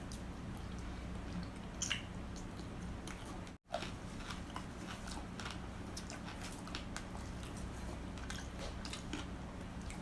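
Close-up chewing of a stewed chicken drumstick with crunchy soft bone, soft wet bites and occasional sharp crunches recorded near the mouth in a quiet room, without talking.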